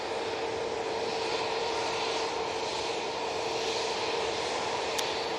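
An Airbus A321-200 airliner bound for Frankfurt at Manchester Airport gives off a steady, broad jet roar, distant and even, with no voices.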